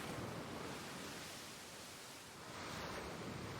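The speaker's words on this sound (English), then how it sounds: "Surging murky water rushes over the land around the river during an intense flood." Murky floodwater surging over riverside land in Civilization VI, a steady broadband rushing roar that holds at an even loudness throughout, with no voices.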